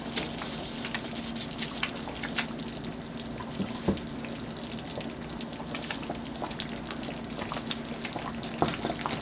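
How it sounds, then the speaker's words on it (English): Garlic pork chops simmer in a creamy mushroom gravy, producing a close, steady bubbling sizzle with small pops and occasional utensil clicks, no talking over it. "I'm going to let it continue to simmer in the gravy."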